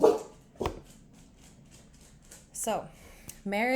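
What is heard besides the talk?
dog barking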